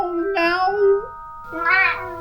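A cat meows twice, a drawn-out mew followed by a second rising call after a short pause, close and clear with nothing else over it.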